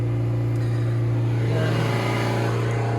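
A Vauxhall Astra engine holds a high, steady rev, a loud continuous drone with a strong low hum, close to the car and free of speech.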